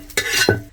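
Bajra flour with onion stirred in a little hot oil in a pan: a short scraping stir with a soft sizzle, two quick strokes close up, no talking.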